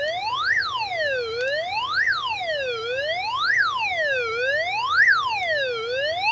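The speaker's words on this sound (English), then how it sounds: "I think this is an alarm up here" A Retevis RB17P GMRS handheld radio sounds its emergency alarm, a loud, close siren that sweeps up and down in four regular wailing cycles, with no talking over it.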